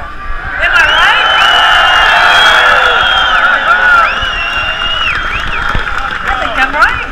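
A large crowd at a pro-gun rights rally in Albany, New York cheers and whoops steadily, a dense roar of many voices with shouts rising above it and sustained throughout.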